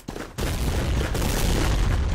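A charge detonates in the World War II shooter Day of Defeat: Source, a loud, sudden blast after a brief quiet moment that swells into a sustained, heavy rumble lasting about two seconds.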